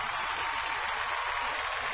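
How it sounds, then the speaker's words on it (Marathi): An audience applauds a Bohada folk art performance from Bhandardara on a touring Marathi comedy show: an even, continuous wash of clapping, fairly soft and distant, with no voices. "त्यांच्यासाठी आपण जोरदार टाळ्या वाजवूयात."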